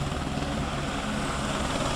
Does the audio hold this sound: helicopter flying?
yes